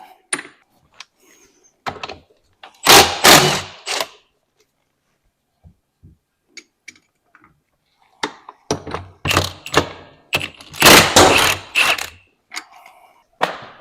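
Wrenching on a Yamaha YFZ450R engine to pull off the front sprocket: scattered metallic clunks and taps, then dense bursts of clattering around the start and again near the end, close and fairly loud, with no talk.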